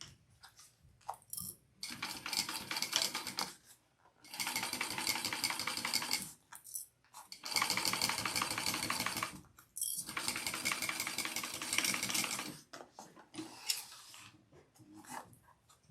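Sewing machine stitching fabric bag pieces together, three long steady runs of rapid mechanical clatter separated by short pauses with fainter handling clicks.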